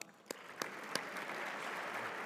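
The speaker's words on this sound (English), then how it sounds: "Clap, clap." A few sharp individual claps lead into sustained, even applause from an audience at a business awards ceremony honouring a young professional.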